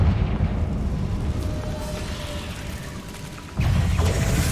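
Fiery blast from the Confringo spell in the Hogwarts Legacy game, a loud rumbling roar with mechanical crackle that dips briefly and then swells again with another heavy burst.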